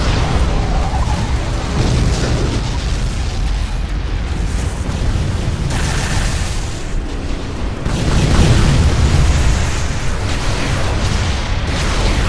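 Heavy booming cannon blasts from a tank in the video game Unreal Tournament 3, loud and continuous with rumbling explosions layered over dense battle noise and no voices.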